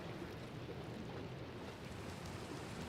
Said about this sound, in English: And it's raining, so I guess it's a good time to go down underground anyways.